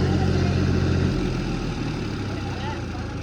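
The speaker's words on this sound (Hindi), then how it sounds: "धक्का लगा रहे हैं ट्रैक्टर को" A tractor engine runs at a steady low idle while the tractor is being pushed, a continuous rumbling throb that eases slightly partway through, with a voice talking over it.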